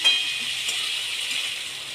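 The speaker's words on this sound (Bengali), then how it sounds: "এবার পেঁয়াজটাকে হালকা ভেজে নেব।" 200 grams of chopped onions lightly frying in a pan, a steady soft sizzle and hiss that carries on without a break, close and fairly quiet, with no talking.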